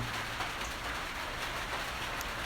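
Steady rain falling, a continuous broadband hiss of drops hitting a surface, fairly close and unbroken throughout with no voices.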